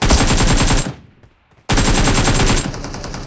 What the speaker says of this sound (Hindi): आस पास ही चल रही है गोलियां